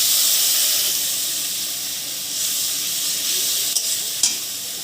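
Water is poured into a hot pan of spices with turmeric and chili powder, setting off a loud, steady sizzle and steamy hiss that runs for several seconds. Two faint clinks come near the end.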